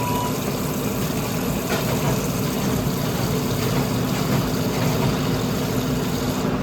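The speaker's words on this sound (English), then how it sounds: "So, the filter system of the fryer works just fine," A Frymaster commercial fryer's oil filter pump runs steadily, a continuous low mechanical hum and whir with a faint higher whine, even and unchanging throughout with no talking.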